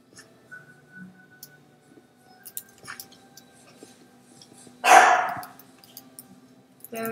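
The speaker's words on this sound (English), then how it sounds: "Sorry, that's my dog in the background." A dog barks once in the background, a short, sharp burst standing out above faint game sounds and scattered ticks.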